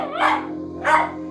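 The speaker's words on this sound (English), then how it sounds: "the miniature schnauzer barks uncontrollably" A miniature schnauzer barks uncontrollably in an apartment, three sharp close barks in quick succession over a low steady hum.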